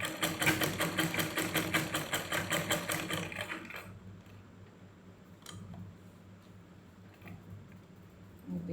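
A sewing machine stitches fabric in rapid, evenly spaced mechanical pulses for nearly four seconds, then stops, leaving quiet room noise with a few faint clicks and handling sounds.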